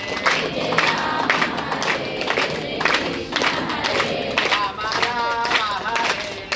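Devotees clap and chant together at a Sri Venkateswara Kalyana Mahotsavam temple festival, a dense, steady crowd sound with rhythmic clapping under sung chanting voices throughout.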